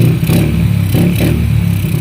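A Honda Wave 100 motorcycle engine revs up close after carburetor tuning, loud and throaty, with rapid pulsing and a few brief swells in pitch and power.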